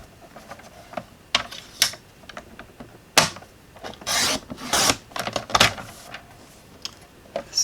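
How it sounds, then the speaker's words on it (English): Scissors or a trimmer cutting a quarter-inch strip from a sheet of red paper. Close, scattered crisp snips and rustling paper handling come in short uneven bursts with quiet gaps, with no talking. "I'm going to cut off a 1/4 inch strip."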